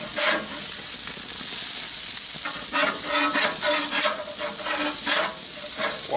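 Burgers made with onion soup mix sizzle on an old-school Weber gas grill. The loud crackling hiss is close and steady, with bursts of popping throughout and no talking.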